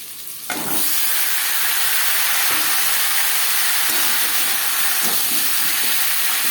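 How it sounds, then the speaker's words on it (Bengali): Thinly sliced, peeled potatoes hit hot oil already frying panch phoron five-spice and bay leaf, setting off a sudden loud sizzle that stays as a strong, steady hiss with a few faint stirring clinks, close and without speech. "5 ফোড়ন তেজপাতা ভেজে নেওয়ার পর দিয়ে দেবো আলু।"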